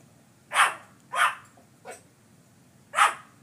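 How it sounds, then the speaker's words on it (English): A dog barks four times in separate sharp bursts, three close together and one after a pause, fairly close by with no talking over them. "What are you barking at?"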